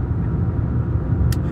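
A car engine pulling up a steep mountain road in fourth gear, a steady close, loud low drone with road rumble that holds constant throughout.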